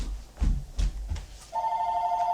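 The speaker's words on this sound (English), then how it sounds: "Are you going to answer the phone?" Telephone ringing: three short rhythmic rings, then a sustained electronic ring tone, heard fairly close with no speech over it.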